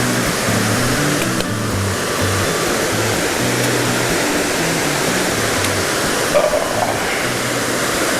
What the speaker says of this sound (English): Water feature coming up.